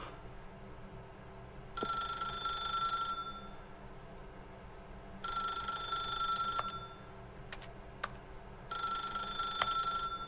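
A telephone in The Stanley Parable video game rings in three separate bursts of bright electronic trills, each roughly a second and a half long with quiet gaps between, over a faint steady room hum and with no talking.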